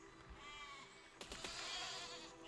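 A sheep bleats faintly in the video game Besiege, a wavering tone under steady background noise, with a few sharp clicks and bumps from the game partway through.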